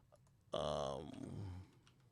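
A brief burst of computer keyboard typing and mouse clicking, close and fairly loud, lasting about half a second before fading, with faint background sound around it.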